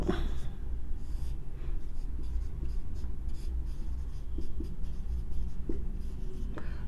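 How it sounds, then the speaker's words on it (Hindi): Handwriting notes with a pen on paper, soft continuous scratching strokes close up, steady and quiet with occasional small taps, no talking. "नोट डाल के मैं लिख दे रहा हूं"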